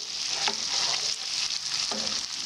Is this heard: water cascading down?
no